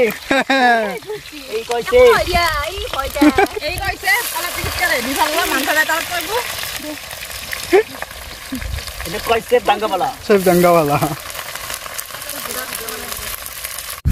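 Food being stirred and fried in a kadai (wok) at home, a steady sizzle running under lively conversation, with a motor-like hum in the background.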